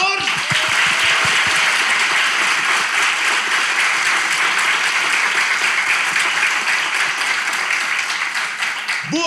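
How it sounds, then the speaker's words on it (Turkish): Studio audience applause closing a Turkish relationship-quiz show, loud continuous clapping filling the room, with a few low voice sounds at the start. "İlişki testi harikulade bir bölümle alkışlarla sona eriyor"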